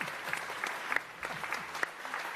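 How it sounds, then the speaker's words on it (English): An audience at a stage presentation during a game expo claps in a dense, sustained burst of applause, heard from a moderate distance, with no voices rising above it. "please, everybody, a huge round of applause for picnic benches!"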